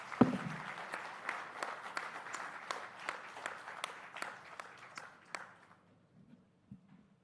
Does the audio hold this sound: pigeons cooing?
no